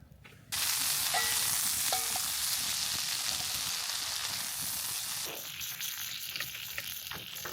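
Food frying in butter in a pan over an open campfire on a snowy winter camping trip, a steady close sizzle that starts abruptly after a brief quiet moment and keeps going with small crackles, with no talk.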